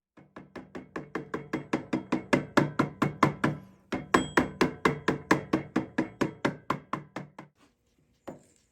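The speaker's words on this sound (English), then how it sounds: "I'm just gonna probably lightly tap on this just to get it pushed down on there a little bit more" A tool lightly taps a part down onto the crankshaft of a Suzuki SX250 motorcycle engine, giving a close, steady run of about thirty evenly spaced knocks with one brief pause, then a final single tap.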